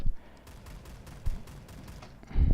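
A fully automatic shotgun with an eight-round magazine fires in Phantom Forces. Fairly quick, evenly spaced blasts are moderately loud, with a heavier thump near the end.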